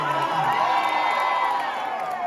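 Loud crowd cheering and whooping at an Andrew Yang town hall in Las Vegas, a dense sustained roar of voices with shouts rising throughout.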